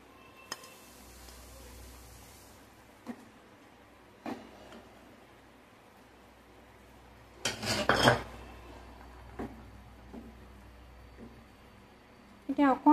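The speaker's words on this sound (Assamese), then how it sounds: "এতিয়া ইয়াতে মই মচুৰ দালিৰ পকৰাকেইটা দি দিম।" Masoor dal fritters go into a pot of simmering curry: scattered metallic clinks of utensils against cookware, then a brief louder clatter and splash in the middle, with a voice talking throughout.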